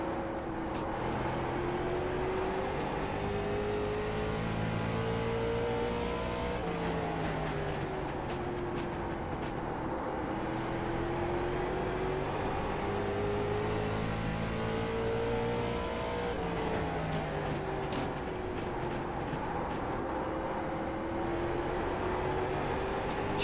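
Late model race car engine in iRacing at Stafford, droning steadily through a qualifying lap with rising and falling pitch as it accelerates down straights and backs off into turns, loud and continuous with no talk.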